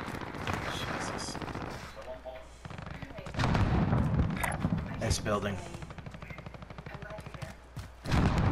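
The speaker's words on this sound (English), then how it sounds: "That's where the gunfire was coming from." Gunfire in the Call of Duty: Modern Warfare video game rattles in loud, repeated bursts and rapid volleys, with a voice talking over parts of the action.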